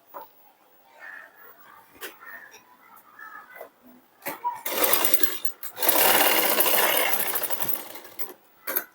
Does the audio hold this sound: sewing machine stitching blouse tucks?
yes